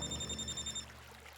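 A telephone rings indoors in a household, a bright electronic ringing tone lasting under a second, then it stops and low room noise remains.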